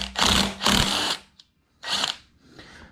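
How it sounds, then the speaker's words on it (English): A Yamaha TW200 flywheel nut is worked with an impact wrench in three short loud rattling bursts, two close together, then a pause and a third after a faint click, ending in a softer tail. "I'm gonna try using the impact, except this time I'm gonna try to tighten it"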